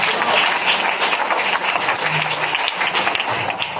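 A church congregation at a French-language service claps and cheers together in steady, dense applause that fills the room for several seconds, loud and sustained, with no one speaking over it.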